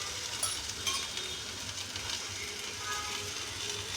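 Okra (bhindi) frying in a pan, a soft, steady sizzle with occasional light clicks and scrapes, fairly quiet.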